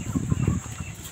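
Chickens on a dairy farm cluck softly in a few quick, close bursts, with low murmuring clucks over a steady background hum.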